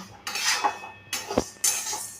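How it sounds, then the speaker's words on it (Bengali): Moong dal is dry-roasted in an empty kadai, with three distinct scraping, clattering bursts of metal on metal close to the listener. "মুগ ডালটা আমি একটু হালকা লালচে করে ভেজে নিচ্ছি"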